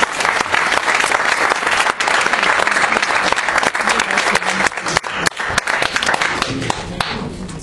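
Sustained applause from an audience for a young performer after a Mozart piece, dense steady clapping loud and close throughout, thinning slightly near the end.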